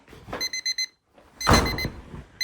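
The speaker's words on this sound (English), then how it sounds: "Let's stop that timer." A kitchen timer alarm rings in short bursts of repeated high electronic beeps, a pause, then a longer louder stretch of beeping mixed with a bump of handling noise, heard during home cleaning.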